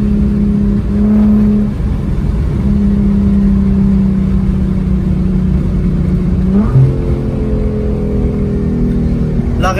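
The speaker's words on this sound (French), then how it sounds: "La réponse à l'accélérateur est immédiate, il n'y a aucun décalage." A car engine revving under acceleration, a loud steady droning hum close to the microphone whose pitch climbs sharply near the end.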